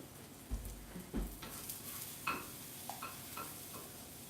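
Food cooks in a pan with a soft, steady sizzle, broken by a few scattered clinks and scrapes of stirring. The sound is quiet and close, with no voices.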